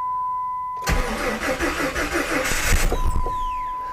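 Jeep 4.0L engine cranks and catches after a steady electric hum, running rough and stumbling with uneven pulses for about two seconds before cutting out, close and loud.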